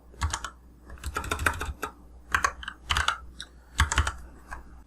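Fingers typing on a computer keyboard while renaming an object in SketchUp, a close run of quick key clicks in several bursts with short pauses between them, no voices.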